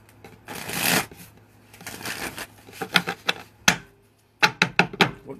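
Tarot cards riffled and shuffled up close, with bursts of papery flutter, a sharper clatter of cards snapping together, and a short pause before a final run of quick card taps.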